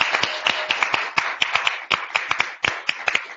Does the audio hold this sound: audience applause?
yes